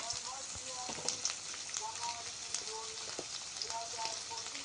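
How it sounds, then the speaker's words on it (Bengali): Shrimp frying with salt and turmeric in a pan for a crispy coconut-shrimp stir-fry, giving a steady soft sizzle and crackle throughout with scattered pops, close and moderately quiet. "চিংড়ি মাছটাকে দিয়ে ভালোভাবে ভেজে নিতে হবে"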